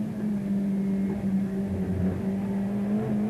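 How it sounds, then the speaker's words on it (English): A touring car laps Brands Hatch during a 1989 British Touring Car Championship race, its engine a smooth, steady drone at sustained revs that holds throughout with little change in pitch. "Just listen to how smooth and effortless Andy makes it all seem"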